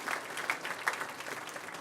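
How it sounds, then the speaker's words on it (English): Applause from a banquet audience at a university scholarship and ring banquet, fairly quiet and distant-sounding, with a steady patter of claps and a few sharper individual claps standing out over almost two seconds. "So again, nice round of applause for yourselves"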